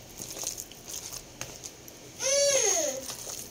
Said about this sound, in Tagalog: Pasensya na sa aking kids. Nagkakagulo na naman sila.